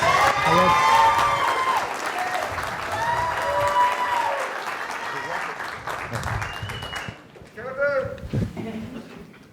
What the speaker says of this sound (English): Have a round of applause for Kevin.